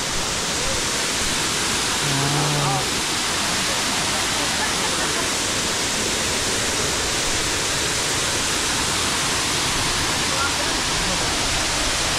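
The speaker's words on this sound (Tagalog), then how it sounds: "Meron ng mga malakas na tubig." Waterfall on Siquijor Island roaring steadily as a dense, loud rush of falling water, with a brief voice heard near the start.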